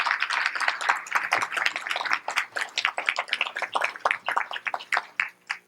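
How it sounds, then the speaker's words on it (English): Audience applause at an annual meeting honoring a young woman of distinction, many people clapping in a close, irregular patter that thins out and grows sparser toward the end. "Please give her a round of applause."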